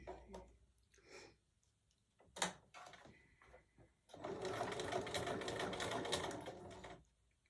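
A sewing machine stitches the seam of a quilted mug rug, starting with a few isolated clicks and handling sounds, then running in a steady close whirring hum for several seconds before stopping.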